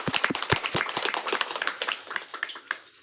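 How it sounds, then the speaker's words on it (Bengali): An audience claps together at a clothing distribution event, a dense run of sharp, overlapping hand claps at moderate volume that carries on steadily for about three seconds. "সবাই মিলে একটা এর জন্য হাততালি করবে"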